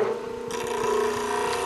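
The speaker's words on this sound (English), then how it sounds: "I'm gonna keep the scraper right flat on the platform and just move it across the scraping surface there" Woodturning scraper held flat on a grinder platform and drawn across the wheel, giving a steady close grinding rasp that runs through the whole short stretch without talk.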